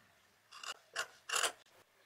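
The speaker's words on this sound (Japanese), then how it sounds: "三角の部分の縫い代に途中まで切り込みを入れていきます。" Scissors snipping notches into the fabric seam allowance of a hood's triangular section, three quiet close-up crisp cuts in quick succession.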